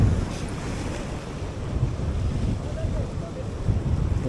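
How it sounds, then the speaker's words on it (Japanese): Strong wind buffets the microphone at the seaside on Hatsushima island, a steady, loud roar with low rumbling gusts and surf blended underneath. "こっちの向きから風が吹いてるんですよね。 割と強めに吹いてる"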